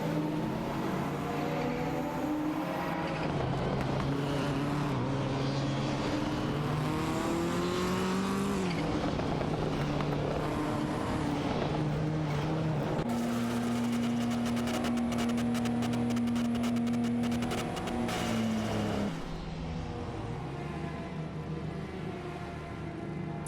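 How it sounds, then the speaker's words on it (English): Video game race cars, Nissan Skyline GT-R R32s, roar continuously at close range with engines rising and falling through gear changes, a strong sustained drone in the middle and an occasional tire squeal, with no voices. "Tenka in 704 appears to have the edge in cornering speed, while Vin XD is trying to close the gap on the straights."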